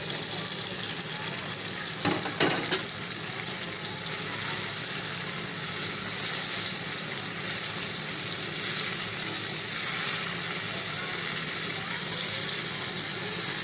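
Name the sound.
ginger paste frying in pan for chicken karahi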